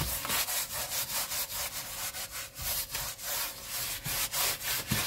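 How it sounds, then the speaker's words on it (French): A paintbrush works foaming cleaner into leather in steady back-and-forth strokes, giving a close, repetitive scrubbing and rubbing sound with no talk. "C'est pas mal du tout, comme ça, avec le pinceau. Voilà, vous voyez, ça mousse quand même pas mal."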